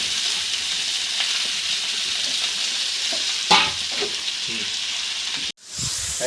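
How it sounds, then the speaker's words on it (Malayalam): Chopped onion, green chili, garlic and ginger sautéing in a pan for biriyani, a steady bright sizzle with a few stirring scrapes and a sharp clatter of a spoon before the hiss resumes. "നമ്മുടെ അരിഞ്ഞു വെച്ച സവോള, പച്ചമുളക്, വെളുത്തുള്ളി, ഇഞ്ചി എല്ലാം കൂടി ഇട്ട് നല്ലോണം വഴറ്റിയെടുക്കണം"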